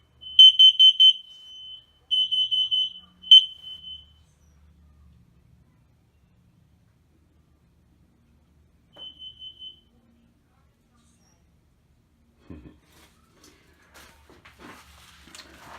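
A smoke, fire and carbon monoxide alarm in an RV trailer sounds three bursts of piercing high beeps, then a lone short beep after a pause, followed by near silence with faint handling clicks.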